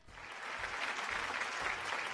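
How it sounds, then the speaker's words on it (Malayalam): Studio audience applause on a Malayalam TV game show, Super Bumper, a steady wash of clapping that swells and holds throughout without talk. "ഒരു കയ്യടി"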